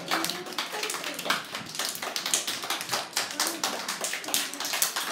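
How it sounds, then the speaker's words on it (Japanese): Kindergarten children clapping for carers, a steady run of small, quick hand claps from a group of young kids, fairly soft and close, lasting several seconds without talk. "拍手してください"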